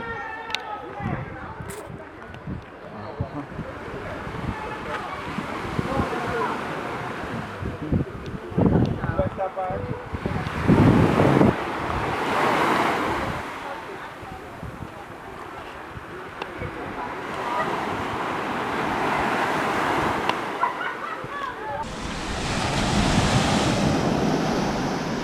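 Ocean surf breaks repeatedly at Boston Beach, rising and receding in loud surges of washing water while wind buffets the microphone, with people talking in between.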